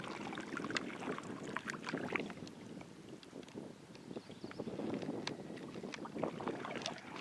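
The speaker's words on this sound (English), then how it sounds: "Just paddling up the Nipissing." Canoe paddling upstream on the Nipissing River in Algonquin Park in May, with steady splashing and watery rustle from paddle strokes mixed with wind buffeting the microphone, continuous and fairly close throughout.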